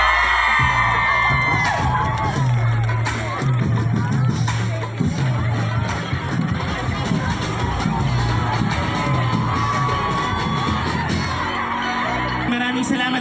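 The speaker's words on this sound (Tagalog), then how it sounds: "salubungin po natin ang isang malakas sa palakpak" A large crowd at a political grand rally in Oran cheers, whoops and shouts continuously, loud and dense throughout, with voices and a low rhythmic musical thump running underneath.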